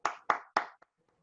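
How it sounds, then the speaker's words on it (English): Three sharp hand claps in quick succession followed by a fainter fourth, close and isolated, at a rural health conference opening ceremony. "So we give you all a big clap"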